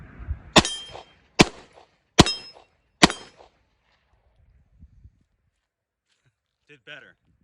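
Four sharp, loud shots from a Polish Radom Vis P35 pistol firing Federal 115-grain ammunition in quick succession, each with a short ringing tail, followed by quiet and a brief voice.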